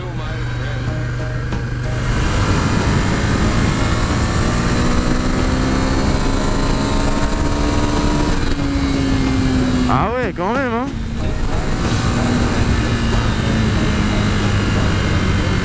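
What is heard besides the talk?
Ducati Scrambler motorcycle engine pulling during test ride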